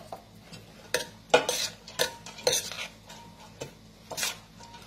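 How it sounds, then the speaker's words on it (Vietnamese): A utensil stirs goat blood mixed with coriander seeds in a metal pot or bowl, making several distinct scraping and clinking strokes up close in a quiet room. "Tôi sẽ trộn đều vào."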